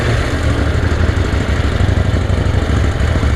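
A KTM Duke motorcycle engine idles loudly and close while warming up, a continuous rough, pulsing mechanical rumble with no talk.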